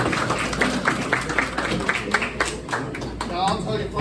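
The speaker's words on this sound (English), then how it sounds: "Give them a round of applause." An audience at a First Responders Lions Club chapter fundraiser breakfast claps for an NYPD detective squad, a scattered round of hand claps in a room, moderate and fairly close.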